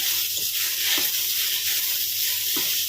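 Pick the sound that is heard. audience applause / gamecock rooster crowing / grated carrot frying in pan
grated carrot frying in pan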